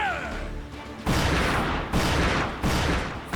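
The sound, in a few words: ship cannons firing in Yakuza Like a Dragon Pirate Yakuza video game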